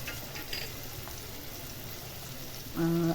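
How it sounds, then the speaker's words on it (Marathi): Peas and cauliflower sizzle in a pan while being sautéed, a steady soft frying hiss throughout, with a louder tonal hum entering near the end. "मऊ होत नाही तोपर्यंत त्याला परतत राहायचं"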